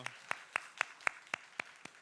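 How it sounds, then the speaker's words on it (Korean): Children at an elementary-school church service clap together in a steady, even rhythm of about eight sharp beats in two seconds, faint and slightly distant. "우리 6학년 1팀한테 너무나 잘했다고 우리 박수 한번 쳐줄까요?"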